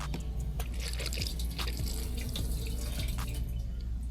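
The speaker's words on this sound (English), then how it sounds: "I bet you've never seen a portable flushing toilet." A portable flushing toilet flushes with a steady rush of running water and a few small splashes and drips, continuous and close for the whole stretch.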